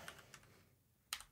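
Brief burst of typing on a computer keyboard: a few soft, spaced keystrokes, then a sharper cluster of clicks near the end, close and quiet with no talking.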